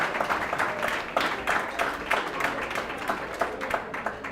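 Applause at a women's excellence awards ceremony, a moderate crowd clapping in uneven bursts that carry on steadily, mid-distance and fairly soft, with no speech over it.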